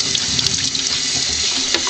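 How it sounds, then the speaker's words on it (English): Tap water runs steadily into a sink, rinsing a 1/10 scale RC car body, a continuous close splashing gush with no talk. "Spray down your body with some water."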